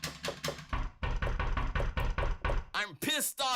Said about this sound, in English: there's door knocks.